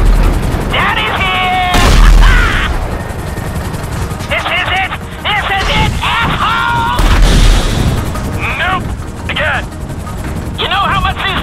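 Rockets and gunfire in the video game GTA V: dense, continuous loud booms and rattling weapon fire with heavy low rumble, mixed with wailing sirens and game effects, while people shout and talk over the action.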